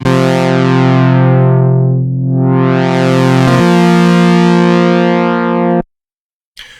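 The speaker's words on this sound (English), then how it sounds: "where you can layer a fifth note for the second oscillator" A loud, buzzy BABY Audio BA-1 synthesizer tone, second oscillator layered a fifth above, sweeps down and back up through a filter, then holds steady before cutting off abruptly.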